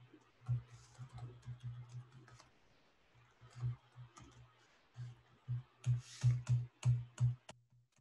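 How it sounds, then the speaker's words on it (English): Typing on a computer keyboard during a coding talk, with irregular bursts of clicking keystrokes and short pauses between them, close and fairly quiet. "You love when all your typing goes to heck."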